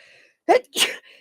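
A single sharp sneeze in two quick bursts, close and loud, followed by quiet.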